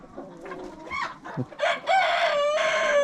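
Wild chickens clucking close by, followed by a loud rooster crow that fills the last half.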